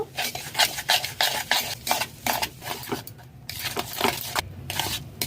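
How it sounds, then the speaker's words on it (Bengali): Sugar and ghee whisked together in a bowl, rapid rhythmic scraping strokes close up with brief pauses and no voices. "এইভাবে চিনি ঘি ভালো করে ফেটিয়ে নিতে হবে"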